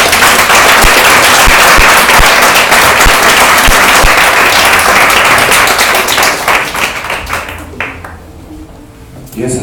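Church congregation claps during a sermon, loud and dense at first with sharp individual claps standing out, then thinning and fading into scattered claps near the end.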